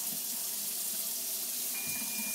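Water pours steadily from a tap in a kitchen, making a continuous, even hiss that fills the short moment with no talking.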